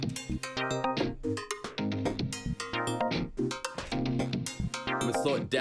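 Rhythmic wave-sequenced synth pattern from the Unify plugin, playing bright stepping tones and pulsing chords in a steady, busy groove with no voices over it.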